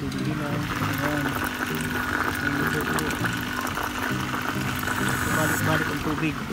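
Water flowing continuously through a hydroponic lettuce and vegetable water supply at a school in Songkhla, Thailand, a steady pouring rush that persists throughout while a person talks.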